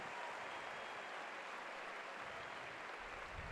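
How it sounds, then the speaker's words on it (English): Faint, distant crowd ovation in a large college football stadium during a Michigan versus Maryland game, a steady wash of clapping and cheering noise from afar with a low thump near the end. "And a nice ovation from the Big House crowd."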